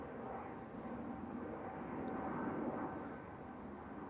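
An Aer Lingus airliner touches down in gusty wind at Manchester Airport, heard as a steady, distant engine roar that swells slightly and stays faint throughout.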